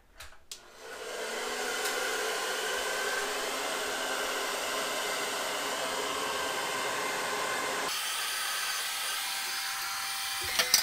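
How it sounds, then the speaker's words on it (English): A hairdryer blows hot air steadily and loudly over plastic window insulation film taped to a frame, a continuous close whooshing roar that drops in tone near the end, with brief handling clicks at the start and finish. "then we're going to get the hairdryer."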